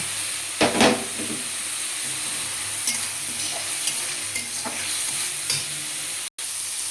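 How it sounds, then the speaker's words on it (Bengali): Chopped tomatoes fry with browned onions for veg paneer, a steady close sizzle broken by stirring scrapes and clinks, with a brief burst of hissing near the start and no one talking. "পেঁয়াজটা একটু লাল লাল ভাজা হয়ে গেছে, এবার এর মধ্যে টমেটো কুচিগুলো দিয়ে দেবো।"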